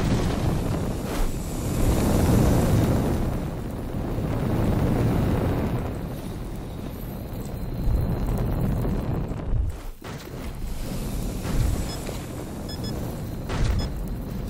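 A flame anomaly bursts in S.T.A.L.K.E.R. Shadow of Chernobyl inside Lab X-18, giving a loud, steady broadband roar that swells and ebbs, briefly drops out near the ten-second mark, then resumes.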